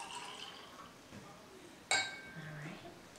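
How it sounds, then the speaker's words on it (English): Water poured from one cup into a third cup or bowl: a sharp clink of the vessel, then soft trickling and splashing, with a voice talking nearby. "take that water and pour it into your third cup or bowl"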